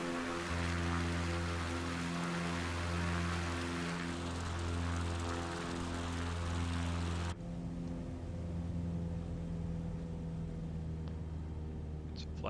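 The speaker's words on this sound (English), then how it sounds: "props going to full RPM" A propeller aircraft engine in Microsoft Flight Simulator 2020, flying the Idaho backcountry near Smiley Creek, runs up to full RPM as a loud, steady harmonic drone that shifts in pitch partway through and keeps droning with no talk.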